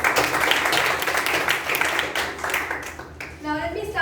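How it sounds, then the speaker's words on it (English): Audience applause at a Toastmasters meeting, dense steady clapping filling most of the moment, then easing off as a voice begins near the end. "Please join me in giving him a big round of applause."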